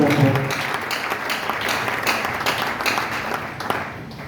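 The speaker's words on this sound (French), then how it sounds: "Est-ce qu'on peut s'acclamer soi-même?" A church congregation at an evangelical service applauds itself, sustained dense clapping filling the room at close range, tapering slightly near the end.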